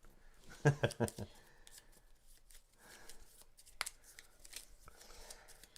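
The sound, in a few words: shuffling a deck of playing cards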